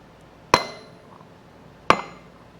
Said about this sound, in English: we're gonna take a socket and stick it on here over the shaft and just tap it with a rubber mallet